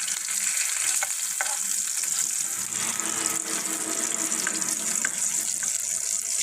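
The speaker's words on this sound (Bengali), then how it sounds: "দেখুন কিভাবে উল্টাই দিচ্ছি।" Crispy fish frying in a pan on a stove at medium heat while the pieces are flipped, a dense, even, close sizzle with a few faint clicks of the utensil.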